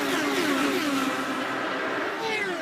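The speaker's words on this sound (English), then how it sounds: "You can just hear those revs climb." An IndyCar race car's engine revs steadily climbing at speed on an oval during the 2009 Texas Indy 550, with rising harmonic whines that stay loud and continuous across the whole stretch.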